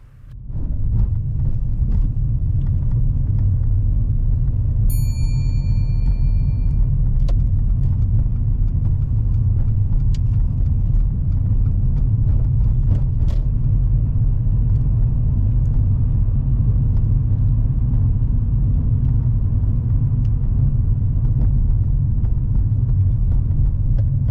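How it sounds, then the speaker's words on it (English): A car is driven through a roundabout in 3rd gear without slowing enough, giving a steady, loud low engine drone and road rumble from inside the cabin with no talk, a brief indicator-like chime early on. "Sherwyn doesn't slow down enough for this next roundabout and continues taking it in 3rd gear."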